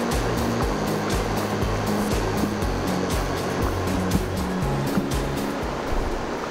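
Country chicken gravy boils hard in a pot, giving off a dense, continuous bubbling and sputtering roar, loud and close throughout.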